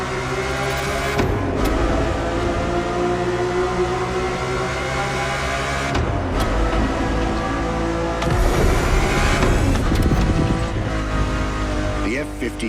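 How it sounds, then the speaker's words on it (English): Ferrari F50 with its naturally aspirated V12 in a racing video game, the engine howling up through the revs with rising and falling pitch over several gear changes, loud and close, while a narrator speaks over it throughout. "The F50's core is a normally aspirated V12 that came straight from a Formula One"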